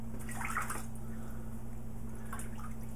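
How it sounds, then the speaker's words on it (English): Water runs and splashes in a kitchen sink as leeks are washed, a soft, steady wet rush with a couple of brief louder splashes over a constant low hum. "take the leeks and wash them in a sink with water"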